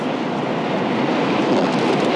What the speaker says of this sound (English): It's just like a little windy.